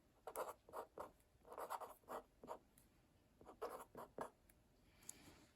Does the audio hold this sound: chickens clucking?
no